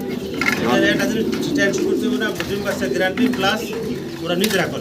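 Pigeons cooing in a farm, soft repeated low coos and murmurs from several birds close by, continuous under someone speaking.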